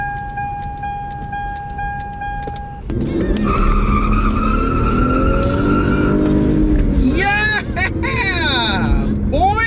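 A Lexus IS300 revving hard and accelerating, heard from inside the car, its engine note climbing steadily under excited talk and shouting.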